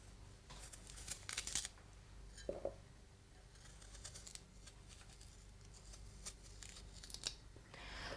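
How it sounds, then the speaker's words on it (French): A kitchen knife peels and slices a turnip in short, quiet scraping and snicking strokes, faint and close against a low background hiss. "on le tranche, on l'épluche franchement"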